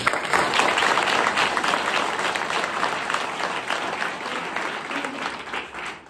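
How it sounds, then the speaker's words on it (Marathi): An audience of school students and parents at a talk applauds, a loud continuous wash of clapping that holds steady for several seconds before tapering at the end. "आता टाळ्या होतं सर्वांनी."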